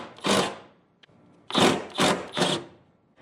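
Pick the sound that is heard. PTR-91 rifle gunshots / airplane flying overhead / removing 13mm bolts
removing 13mm bolts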